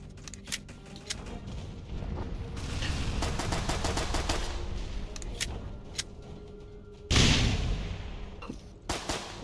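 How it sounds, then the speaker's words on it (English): Rapid gunfire from the Roblox naval combat game Dead Ahead, with bursts of sharp shots and crackling volleys running throughout, plus a loud, close blast near the end. "Keep shooting."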